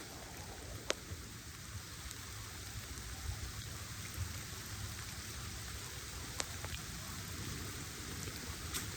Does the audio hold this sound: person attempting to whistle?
no